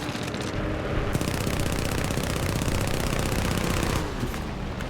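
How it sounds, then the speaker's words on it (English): Hawk III .30 calibre machine guns fire in War Thunder air arcade combat, a dense, rapid, continuous burst of gunfire lasting several seconds, loud and close, with engine drone underneath. "Pretty good fire rate on these guns. They're 30 cals"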